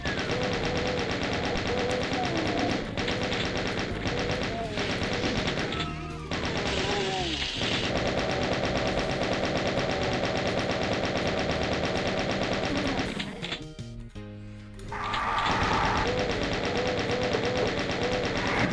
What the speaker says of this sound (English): the chain gun is actually very good for these revenants